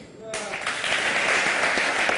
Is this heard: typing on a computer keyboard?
no